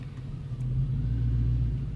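A Ford Mustang with new suspension drives along with a steady low engine rumble and road drone from inside the car, growing slightly louder partway through, with no voices.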